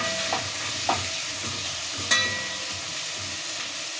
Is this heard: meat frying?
yes